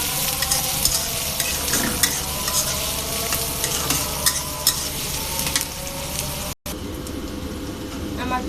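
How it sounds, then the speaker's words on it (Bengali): Onions frying in white oil in a pan for a bojori tangra fish curry, a busy, close sizzle with frequent scraping and stirring clicks running throughout, and a brief cut near the end. "পেঁয়াজটাকে একটু ভালো করে ভেজে নেব।"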